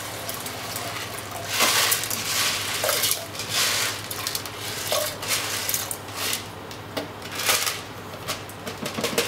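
Plastic biopellets poured into a JNS Alpha 2 biopellet reactor, giving a rattling, clattering cascade of small granules in several uneven bursts, close up, with no talk.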